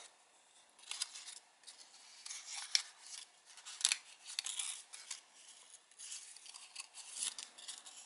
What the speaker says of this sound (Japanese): この縦の折り筋と斜めのこの折り筋を折ることでポケットが広がります。